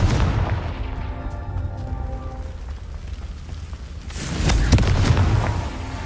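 A Confringo fire spell blasts in Hogwarts Legacy, heard as a loud rumbling boom with a crackling burst that fades, then a second heavier impact near the end over low ambient game noise.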